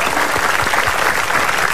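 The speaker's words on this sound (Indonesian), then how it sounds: "Tepuk tangan dulu dong" A studio audience at an Indonesian comedy talk show claps steadily throughout, a dense, loud wash of applause with no talking over it.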